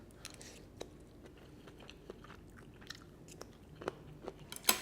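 Someone chews crunchy stir-fried chop suey vegetables and mushrooms: soft, close, irregular bites and crunches over a quiet background, with no talking.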